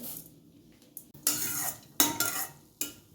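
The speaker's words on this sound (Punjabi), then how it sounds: "ਦੋਸਤੋ ਇਹ ਬੀਜ ਭੁੰਨੇ ਗਏ ਆ ਦੇਖੋ ਤੜਕਣ ਦੀ ਆਵਾਜ਼ ਆ ਰਹੀ ਹੈ" Melon seeds roasting in desi ghee in a pan, heard as a few short, sharp bursts of crackling and scraping against a quiet background, roughly once every second.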